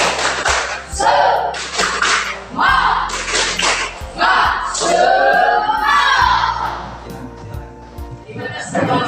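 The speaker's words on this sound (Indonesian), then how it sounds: "Oke, 1, 2, 3. Tepuk semangat." A school class performs a rhythmic spirit clap together, chanting in unison between sharp, loud bursts of group handclaps that follow a patterned beat, with voices prominent throughout.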